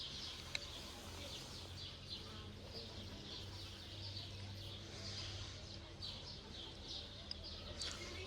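Bright warbling canary song repeats in quick bursts over a steady low hum, faint and somewhat distant, with no voices, in a village in the morning.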